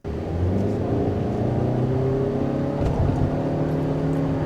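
A 2025 Toyota Camry XLE with a 225-horsepower powertrain accelerates, its engine note rising in a smooth, steady drone from inside the cabin, loud and continuous without talk.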